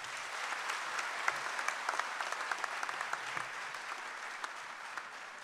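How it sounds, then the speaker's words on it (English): A university auditorium audience applauds, a fairly distant, even wash of many hands clapping with a few sharper individual claps standing out. "a huge round of applause for all of us"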